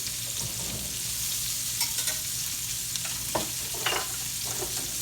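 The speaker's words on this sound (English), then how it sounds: "I add my onions to this. And I'm gonna brown this off" Onions and hamburger steak browning in a skillet, a steady close sizzle with scraping stirs and a few brief clinks over it, no talking.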